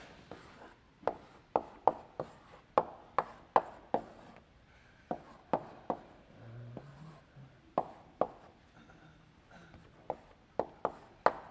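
Chalk strikes and scrapes across a lecture-hall blackboard as a graph is drawn, a string of sharp taps and short strokes at uneven intervals with quiet gaps, no voice over them.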